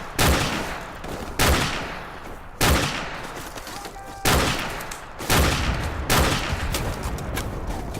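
Loud, sharp gunfire from a weapon in Modern Warfare Remastered: about six heavy bursts spaced roughly a second apart, each ringing out and decaying between shots, with no speech.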